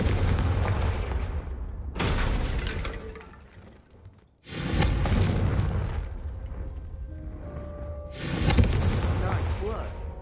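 Confringo fire spells cast in Hogwarts Legacy, blasting candelabras inside the castle: loud booming bursts with whooshing tails, three big blasts a couple of seconds apart, each decaying before the next, in a dense game soundscape.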